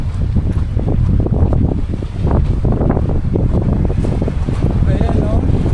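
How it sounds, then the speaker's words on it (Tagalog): Strong wind on Bulalacao Island, Oriental Mindoro, Philippines, buffets the microphone with a constant low roar, steady throughout, while a voice talks over it. "Ang lakas ng hangin dito."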